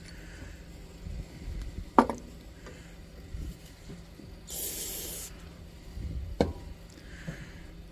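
A short burst of aerosol spray hisses for about a second as a part of a Preway M1942 is sprayed clean, surrounded by scattered knocks and handling noises in a quiet room.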